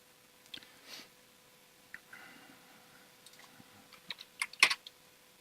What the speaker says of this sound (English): So now we type.